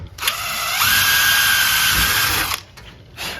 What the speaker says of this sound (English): Now I can come in, drill my hole